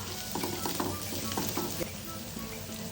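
Plenty of garlic sautéing in a pan, sizzling steadily and loudly throughout, with a faint clink of a utensil now and then.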